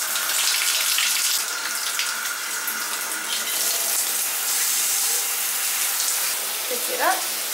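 Tap water runs steadily as a houseplant is rinsed off to wash away mealybug treatment, a continuous broadband splashing hiss lasting throughout with slight shifts as the plant is moved under the stream.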